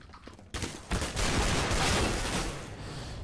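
Dense, continuous gunfire from a CS:GO deathmatch, loud and close, with rapid overlapping shots sustained after a short quiet lead-in.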